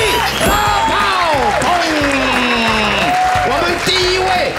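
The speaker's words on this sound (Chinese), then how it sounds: "掌声鼓励" A studio audience at a dating show claps loudly and steadily, while excited voices whoop and cheer over the clapping throughout.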